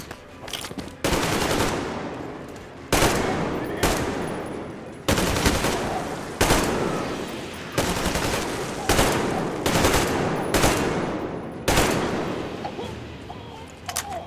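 Bursts of automatic gunfire in Metro Exodus ring out in about eight loud, sharp volleys separated by short pauses, each burst decaying quickly.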